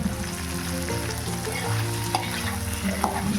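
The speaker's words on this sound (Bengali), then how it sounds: "তেলের মধ্যে গোটা গরম মশলা ফোড়ন দিয়ে দিয়েছি পেঁয়াজ কুচি" Whole garam masala and chopped onion sizzle steadily in hot oil for chana paneer masala, a continuous close frying hiss with light scraping from stirring, no voices.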